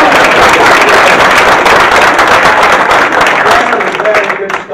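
An audience at an entrepreneurship lecture applauds in a dense, continuous wash of clapping that stays loud and then thins slightly at the end.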